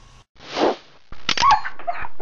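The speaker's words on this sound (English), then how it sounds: "Bad dog! Bad dog!" Cartoon dog giving a loud breathy burst followed by a run of short, sharp yelping barks and whimpers, close and up front with no other sounds.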